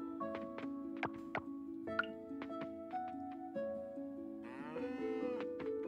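Cattle in the farming video game Coral Island moo over and over in short tonal calls over soft background music, with light clicks between them.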